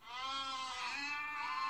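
One sustained goat bleat, quavering and steady, heard clearly on its own with no voices.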